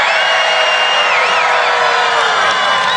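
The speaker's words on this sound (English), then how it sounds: "This is a big, big, beautiful crowd." A large rally crowd cheers and shouts continuously, loud and dense, with whistles and whoops riding over the sustained roar.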